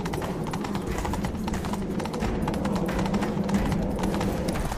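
Rapid, continuous hoofbeats of a galloping horse in the video game The Witcher 3, dense and rhythmic, loud and close over a busy rumbling background.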